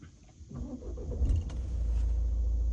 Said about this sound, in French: Elle démarre nickel, vous entendez bien le bruit du moteur.